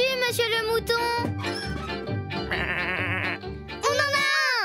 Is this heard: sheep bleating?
yes